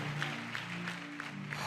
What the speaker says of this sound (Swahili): Mpe Yesu makofi ya utukufu.